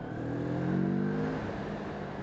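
A Moto Morini 6½ 650cc twin motorcycle pulls hard through second gear, its engine note rising steadily and loud, with a smooth continuous drone and no talk.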